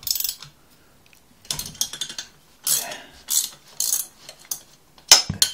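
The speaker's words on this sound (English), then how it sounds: "my trusty ratchet spanners makes life a lot easier" A ratchet spanner turning a 12mm nut, clicking in short separate bursts with quiet gaps between them, close and clear.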